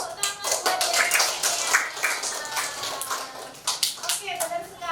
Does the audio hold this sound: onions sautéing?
no